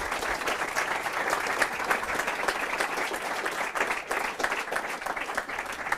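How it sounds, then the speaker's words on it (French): A seated audience at a popular-science talk gives sustained applause, a thick wash of many hands clapping at an even level throughout, with no speech over it. "Je voudrais qu'on les applaudisse un coup quand même."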